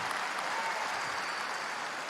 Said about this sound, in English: I know, parents are gonna clap to that one.